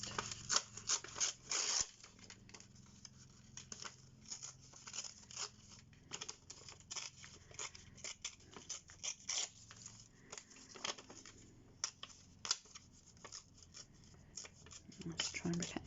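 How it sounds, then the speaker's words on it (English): A page being torn by hand from an art journal, with intermittent ripping and paper rustling bursts amid quieter handling noise, fairly close and soft. "try and rip it out, making sure I don't actually rip any of the writing"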